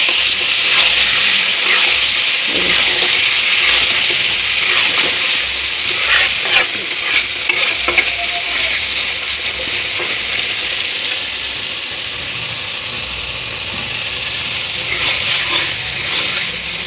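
Chicken stirring and frying in a pan for a chicken and potato jhol, a steady loud sizzle throughout with scraping spoon strokes clustered in the middle, no voices.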